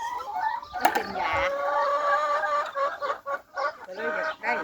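Black chickens cluck and call close by, a run of loud, varied hen vocalizations with short breaks between bursts, plainly audible on their own.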